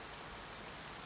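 Steady, even rain hisses throughout a scene in the video game To the Moon, a faint uniform wash of falling drops with no voices.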